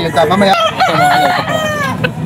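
A rooster crows loudly nearby, with hens clucking around it in a short burst, at a pet market.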